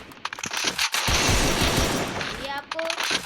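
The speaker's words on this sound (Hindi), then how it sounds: "अब मैं आपको मारना सिखाता हूँ अपनी उस वाली गन से, AK-47 से।" AK-47 fire in a video game bursts out as a rapid, loud volley of shots, followed by metallic in-game effects and short tones as the burst ends.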